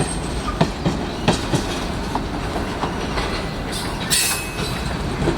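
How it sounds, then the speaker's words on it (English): Union Pacific train rolling into a rail yard in Shakopee, its wheels clanking over rail joints in a steady, irregular series of sharp clacks over a constant rumble, with a brief high squeal, close and loud. "the clanking of the tracks are caused right there"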